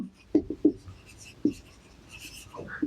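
Marker or chalk strokes on a board while noting share capital in an accounting lesson, a handful of short scratchy taps and squeaks in an uneven rhythm, close and fairly quiet with no talking.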